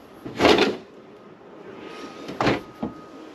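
Drawers with positive-close latches in a 2025 Dynamax by Forest River 28 SS RV shut with two close, solid thumps separated by a short pause, followed by a small latch click, with no talking.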